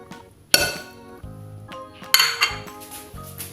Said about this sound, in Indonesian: Kita aduk-aduk sampai merata ya ibu-ibu